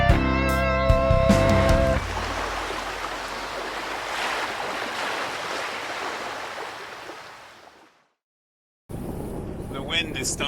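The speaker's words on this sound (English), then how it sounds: "The wind is starting to freshen a little bit" Wind and water wash past a small sailboat heading down a river on a cold day, a broad steady rush that fades out, then returns after a short silence with some clatter.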